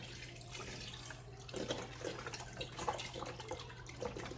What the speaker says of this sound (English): now we're going to add some chicken broth